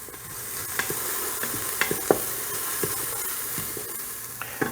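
Spices stirred into translucent onions sizzling in an Instant Pot for Guyanese dhal, a steady close hiss of frying broken by scattered clicks and scrapes of the spoon against the pot, with no talking.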